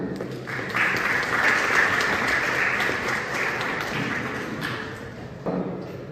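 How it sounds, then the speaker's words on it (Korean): Wedding guests clap for the couple at a ceremony, a moderate, sustained round of applause with a few sharper taps and thumps scattered through it. "큰 박수로 부탁드립니다"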